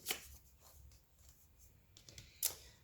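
Tarot cards are shuffled and handled during a reading, giving quiet papery riffles and slides with two sharper flicks at the start and near the end.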